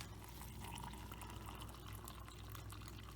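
Steady running cold water pours into a soup cup up to the fill line, a continuous close liquid wash with no pauses.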